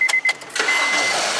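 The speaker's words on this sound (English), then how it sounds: "take the key and just go ahead and start the car up" A Honda Civic's engine is started with the key: a few sharp clicks, then a steady, loud whirring rush that settles into a continuous running drone close by.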